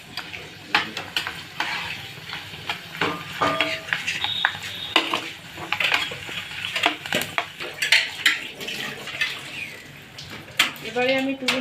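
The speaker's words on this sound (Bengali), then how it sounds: "এই যে চিপসগুলো আমি নিয়ে নিয়েছি, এবারে আমি তেলের মধ্যে ছেড়ে দেব।" Homemade potato chips dropped into hot oil in a home kitchen, with a bubbling sizzle under repeated sharp clatters and scrapes of utensils against the pan.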